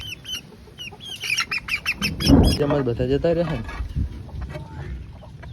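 A hen clucks repeatedly in short, close bursts, mixed with other chicken calls while a person speaks briefly nearby.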